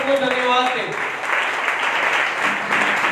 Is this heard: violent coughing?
no